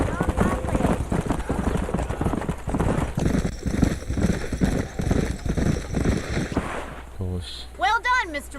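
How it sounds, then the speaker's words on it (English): Horses gallop in Red Dead Redemption, hooves pounding in a dense, steady clip-clop that fills the scene, with a horse whinnying near the end as the pounding fades. "These are fine horses."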